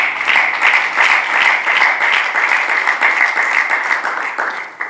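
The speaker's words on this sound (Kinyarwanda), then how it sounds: "Amashyi menshi ku mwami Yesu Kristo" A church congregation applauds together in dense, loud, continuous clapping that stays steady for several seconds.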